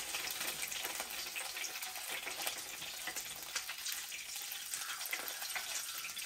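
Freshly fried chicken wings lifted out of a home deep fryer, hot oil hissing and crackling steadily as they drain, a continuous bright sizzle with no talking.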